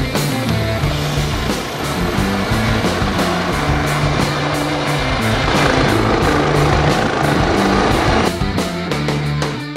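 A SAMU medical rescue helicopter runs loud and close, its steady rotor beat and turbine whine filling the air without pause and swelling slightly midway.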